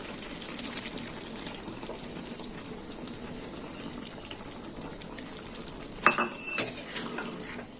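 Coconut milk going into a pan of prawns and pointed gourd, a soft steady simmering hiss with a brief metallic clink and splashing pour near the end, close and unaccompanied by speech.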